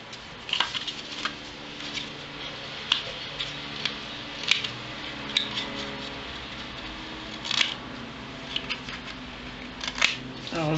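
Scissors cutting paper for a luxury scrapbook album, a series of crisp snips and clicks at irregular intervals, close up, with a voice talking softly underneath.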